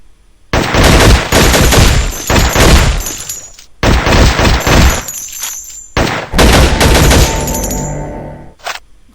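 Loud, dense bursts of rapid gunfire from the video game Infectonator: Survivors come in three long volleys separated by short pauses, followed by a faint final shot.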